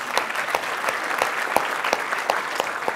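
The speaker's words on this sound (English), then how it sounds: "maybe a round of applause for these great sponsors" A short burst of applause from a modest crowd, scattered claps that turn into an uneven rhythmic patter.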